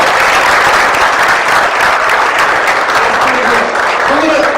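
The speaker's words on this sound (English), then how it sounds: "clap for yourself" Loud, close applause from a room of participants clapping together, a dense steady roar of hands that holds evenly for a few seconds with a faint voice near the end.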